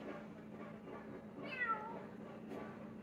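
A cat climbing at night lets out a single clear meow partway through, heard over a steady low background murmur.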